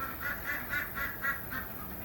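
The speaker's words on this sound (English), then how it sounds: "I think the ducks will remedy that." Ducks quacking outdoors near a corn patch with sunflowers, a steady run of about eight evenly spaced nasal quacks at moderate distance, with no talking.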